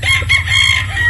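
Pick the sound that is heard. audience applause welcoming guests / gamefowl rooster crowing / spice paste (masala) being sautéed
gamefowl rooster crowing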